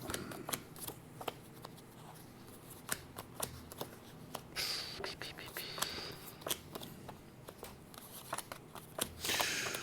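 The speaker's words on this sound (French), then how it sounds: "Je vais juste tirer quelques cartes." Tarot cards being shuffled and drawn, with quick papery riffles and sharp card snaps coming in close irregular bursts while a quiet voice speaks.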